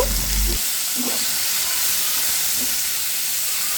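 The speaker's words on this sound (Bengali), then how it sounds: "সবগুলা একটু উল্টো পাল্টে ভালো করে ভেজে নেব" Baim fish frying in a pan with eggplant, a steady loud oil sizzle and hiss throughout, with a couple of soft stirring knocks near the start.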